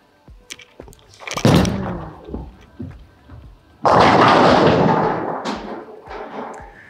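A bowling ball is thrown by a pro bowler: a soft release thud, then a rolling rumble that bursts into a loud clatter of pins about halfway through, fading afterward.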